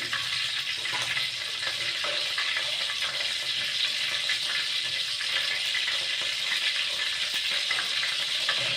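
Cloves, cinnamon and bay leaf sizzle in hot oil for chicken biryani, a dense, steady hiss that runs evenly and close throughout with no talking.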